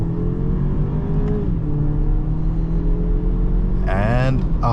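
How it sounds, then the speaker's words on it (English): A 2023 BMW X3 xDrive30i engine drones steadily under acceleration, its pitch climbing and then dropping at a gear change, with a burst of voices near the end. "every time you shift in this car, that transmission gives you a little power boost"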